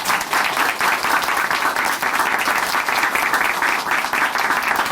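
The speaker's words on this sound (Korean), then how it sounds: "다시 한번 응원의 박수 보내드릴게요" Sustained audience applause at a church testimony broadcast, a dense, steady wash of many hands clapping at close range without a pause.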